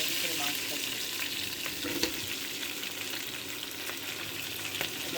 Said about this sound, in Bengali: পেঁয়াজটা ভাজা হয়ে নিলে আমি এর ভিতরে মাছটা দিই।